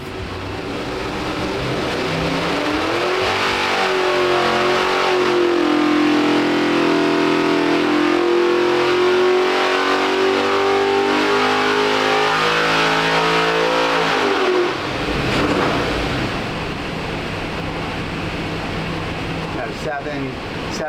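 An alcohol-fueled LS1 engine in a car on a dyno winds up through a full pull, its roar climbing steadily and loud for about twelve seconds before dropping off, with someone speaking over the engine.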